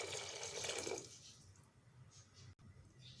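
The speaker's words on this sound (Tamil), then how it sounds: "அதனால் 6 டம்ளர் அளவுக்கு நான் தண்ணி சேர்த்துக்கிறேன்." Water pours into a pot of rice and lentils for sambar rice. The splashing is faint and steady for about a second, then fades to a quieter trickle and light dripping.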